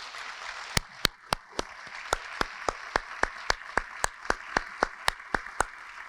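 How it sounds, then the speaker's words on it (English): A few people at a fire department awards ceremony clap for retirees, sharp separate claps falling in a slow, steady rhythm, fairly faint against a quiet room. "please stand and give them a round of applause for our Lauderhill Fire Department"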